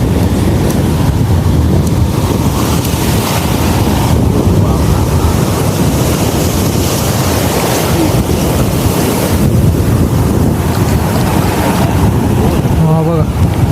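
Big, rough sea waves surge onto the shore in a constant loud wash, heavily buffeted by wind against the microphone, with a fishing boat nearby.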